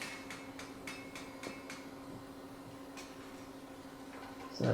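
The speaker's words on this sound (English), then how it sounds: "I'm angling my hammer blows to straighten the rivet head, dragging it towards me" Close, ringing hammer blows strike a hot iron rivet head on Viking-style scarf-welded forging tongs, about a dozen strikes in a quick, even rhythm over a steady hum, with no voices.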